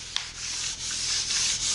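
A hand rubs back and forth across a sprayed lacquer finish dotted with tiny dust nibs, giving a soft, continuous close-up scratchy swishing.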